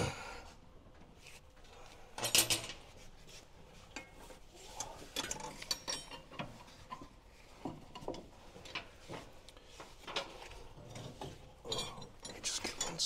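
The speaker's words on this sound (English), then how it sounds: "Ratchet it." A ratchet tightening a bolt during a 4-inch lift kit install on a Mitsubishi U62T: steady, close mechanical clicking in repeated strokes over a noisy garage background, with occasional brief voices.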